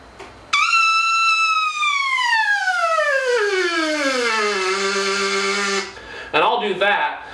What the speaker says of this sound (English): Real good exercise for that is an advanced version of the siren exercise.